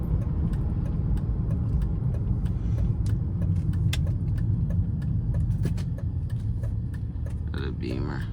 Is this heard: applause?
no